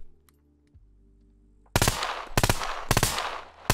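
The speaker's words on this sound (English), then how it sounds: "Somebody else is shooting" Gunfire in the survival video game SCUM: three loud bursts of automatic fire, each a rapid string of shots, after a quiet stretch.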